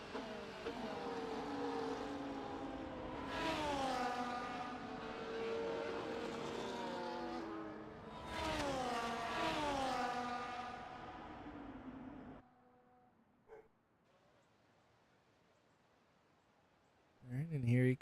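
Race cars in the F1 24 racing game at Shanghai, a Ferrari among them, with high engine whines rising and falling as cars pass. A commentator talks over them before the engines drop away to near silence.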